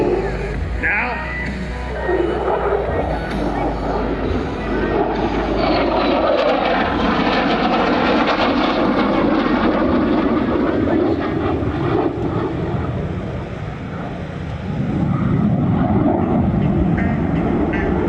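An F-35B Lightning II fighter jet performs a demonstration at the 2024 Greater Binghamton Airshow, its engine roaring loud and sustained, swelling and shifting in pitch as it passes, with a crowd and announcer voice faintly beneath.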